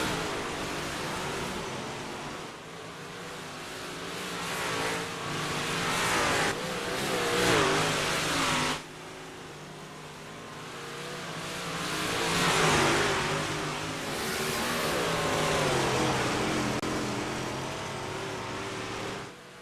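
Open-wheel race cars warming up on the dirt track at Charlotte, engines roaring and revving in rising and falling waves as cars pass, loud and continuous.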